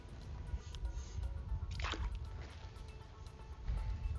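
Water drips and trickles off an Aiper Seagull SE robotic pool cleaner as it is lifted out of a pool, a quiet irregular patter of close drops with a brief splashy pour in the middle.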